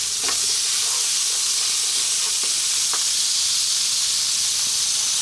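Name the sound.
chopped garlic and ginger frying in oil in a pan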